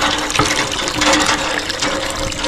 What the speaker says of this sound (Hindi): मैं जल्दी से बाल्टी में पानी भरकर स्नान कर लेता हूँ।